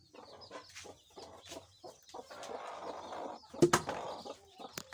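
Hen with twelve young chicks clucking at close range while being brooded, low clucks mixed with shrill peeping and a few sharp louder calls, some flapping or rustling, with no talking.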